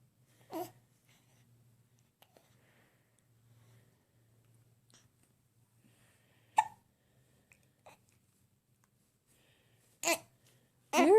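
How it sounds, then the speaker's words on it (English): A baby hiccups in short, sharp bursts: one near the start, another mid-way, then a few closer together at the end. They come from close by against a quiet room with a faint low hum. "you get them hiccups"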